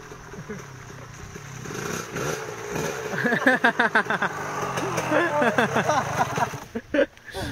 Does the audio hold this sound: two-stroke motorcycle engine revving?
yes